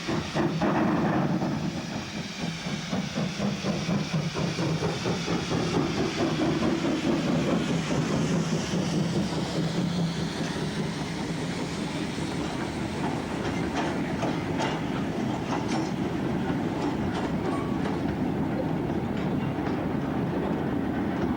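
Avonside 0-4-0 saddle tank steam locomotive Dora running on rails with Mark I passenger stock, a steady rumbling roll with rhythmic clickety-clack of wheels over rail joints, loud and continuous throughout.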